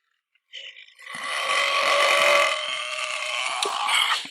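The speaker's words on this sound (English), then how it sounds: "let's blast this fat dude burping at a camera" A man burps at a camera in a video played back, one long, loud, drawn-out belch lasting several seconds with a rough, rasping tone.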